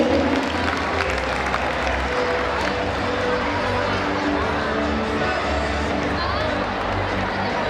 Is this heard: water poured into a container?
no